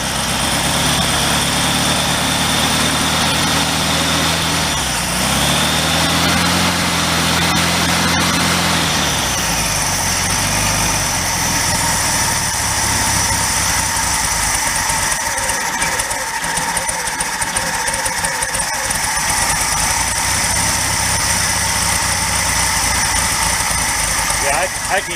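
A small 1961 Volkswagen Beetle air-cooled engine idles steadily and loudly nearby with a rough, uneven rumble, running louder than it should, while a person talks over it.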